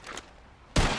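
A single loud gunshot in the video game Red Dead Redemption bursts out near the end, after a quieter stretch of ambient game sound.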